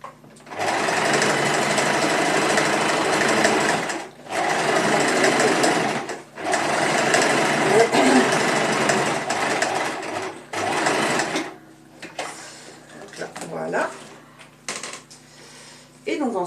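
A sewing machine topstitching a seam on a cosplay bustier runs in several loud, rapid mechanical bursts separated by short pauses, followed by quieter handling sounds.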